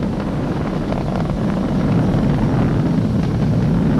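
SpaceX Falcon 9 rocket engines roaring during a crewed launch after passing supersonic speed, a steady, dense, low rumbling roar heard from afar, continuous and unbroken with no voices.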